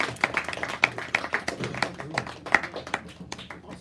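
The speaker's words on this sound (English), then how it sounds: "A little round of applause, I think, would be very nice." A class applauding in a classroom: a dense patter of scattered hand claps from a small group, steady for about four seconds and fairly soft, with no talking.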